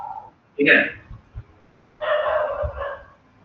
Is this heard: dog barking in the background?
yes